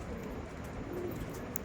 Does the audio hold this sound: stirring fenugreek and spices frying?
no